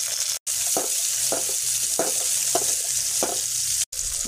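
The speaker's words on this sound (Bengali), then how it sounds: "দিয়ে ভালো করে আগে নেড়ে নেব।" Chopped onion is stirred in fish-frying oil with black and white cumin, giving a steady close sizzle broken by a regular series of scraping strokes from the spatula.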